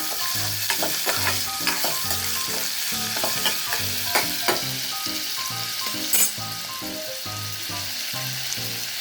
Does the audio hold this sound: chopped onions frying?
yes